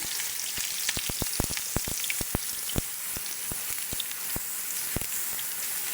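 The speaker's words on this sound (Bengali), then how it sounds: "এখন আমি দিয়ে দিলাম তেলটা গরম হয়ে গেছে এভাবে আমি আস্তে আস্তে সব বেগুনগুলো" Salted eggplant slices fry in hot oil, a close, continuous hiss and sizzle broken by frequent sharp crackling pops, with no voices over it.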